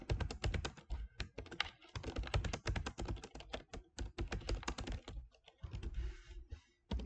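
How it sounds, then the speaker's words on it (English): Fast, continuous typing on a computer keyboard while working in Microsoft Word 2016, with dense clattering keystrokes that thin out briefly before picking up again; no talking. "So I'll just type."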